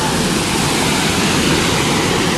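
Waterfall pouring over a former mill spillway at Connetquot River State Park, a loud, dense, continuous rushing roar heard close and alone.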